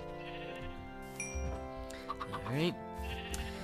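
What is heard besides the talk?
sheep bleating in Minecraft video game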